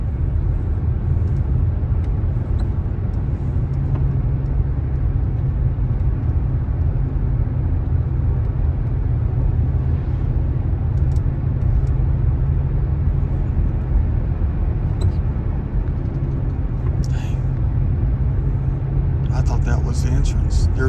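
Steady, close road rumble of a car cruising at high speed on a highway, heard from inside with continuous low drone and a few faint higher noises near the end.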